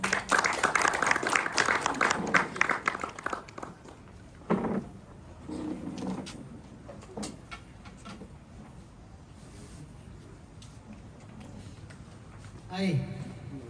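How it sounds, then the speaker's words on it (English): Crowd applause at the closing ceremony of a memorial football tournament's final match, loud and dense at first, then thinning out into scattered claps and background noise. "let's all welcome him with a round of applause"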